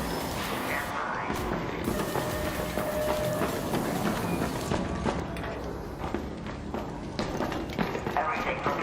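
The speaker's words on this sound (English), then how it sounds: "Trains arrive." A train arrives in the video game Arc Raiders: a loud, continuous rumble with rhythmic clatter that fills the whole stretch, and faint footsteps and game ambience mixed in.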